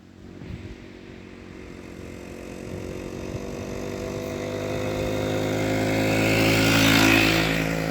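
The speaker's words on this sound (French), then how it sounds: "C'est toujours un plaisir de rouler avec des motos anciennes comme ça là." A restored 1953 Peugeot Type 55 125 cc vintage motorcycle engine runs steadily and close by, its hum slowly building in loudness and pitch as it revs toward the end, with no talk over it.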